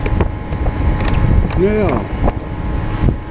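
Outdoor wind buffets the microphone with a constant low rumble that runs through the whole stretch, while someone talks briefly and a vehicle passes nearby.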